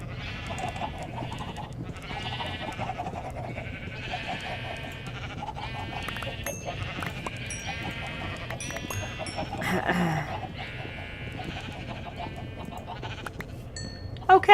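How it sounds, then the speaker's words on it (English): A busy Minecraft farmyard of animal calls: bleats and chicken clucks overlap continuously with chirpy game-like tones, a sharp burst at the very end. "These are chickens."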